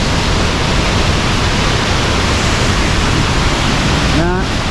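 Loud, constant roar of Sol Duc Falls in Olympic National Park crashing nearby, a dense unbroken rush of water throughout.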